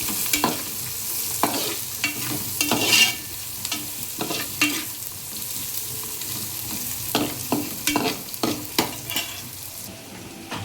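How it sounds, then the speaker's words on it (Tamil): Onions and spices for a Tamil fish kulambu sauté in a pan, with a soft continuous sizzle broken by repeated scraping stirs of a spoon, close and moderately loud, no talking. "இன்னும் நல்லா வதங்கட்டும்."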